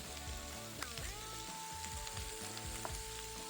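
Peppers and jalapenos drop into a frying pan with a steady, close sizzle and occasional stirring scrapes, in a vegan enchilada preparation.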